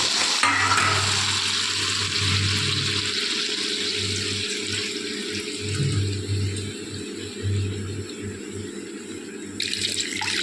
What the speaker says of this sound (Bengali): এবার আমি এর মধ্যে সামান্য একটু জল দিয়ে দিলাম।